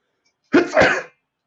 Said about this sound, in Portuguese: Desculpe, espirrei.